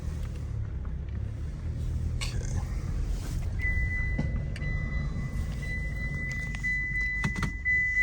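A 2015 Mitsubishi Outlander being driven gives a steady low engine and road rumble heard from inside the cabin, with light rattles and a faint thin whine running through the later part.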